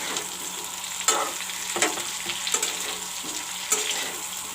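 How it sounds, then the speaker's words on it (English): Broccoli and potato frying in a karai, a close, constant sizzle broken by several scraping stirs of a utensil against the pan, with no talking. "first of all I am frying the broccoli and the potato."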